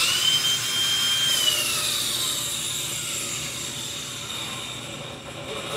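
A Ryobi angle grinder winding down after switch-off gives a high whine that slowly falls in pitch over several seconds, steady and close, with no talking.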